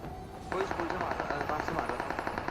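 Rapid bursts of automatic gunfire crackle in the mobile battle royale game BGMI, with shots coming from beside an apartment building; the dense, loud rattling keeps going nonstop through most of the clip after a brief quieter start.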